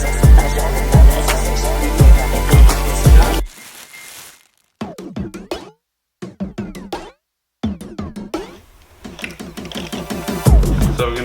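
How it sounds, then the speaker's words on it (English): Four-conductor speaker cable being stripped of its insulation, a run of sharp, close mechanical clicks and snips broken by short silent gaps, loudest in the opening seconds. "we're stripping back the cable to reveal the 4 conductors that are inside"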